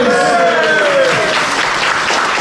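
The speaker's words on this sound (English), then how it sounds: "big round of applause" Loud, steady applause from the audience at a live podcast event in a Glasgow brewery venue, close and full, with a voice speaking over the clapping.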